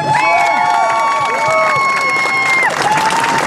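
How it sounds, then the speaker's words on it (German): A crowd at a street demonstration in Cologne against Article 13 claps and cheers, with shouts and whistles over steady applause throughout. "Einmal Applaus für Diana."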